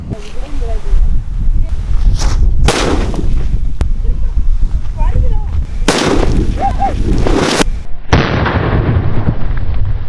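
Several loud bangs and crackling bursts from Valangaiman country firecrackers, including a four-and-a-half-inch one, go off one after another outdoors, with people talking between the blasts.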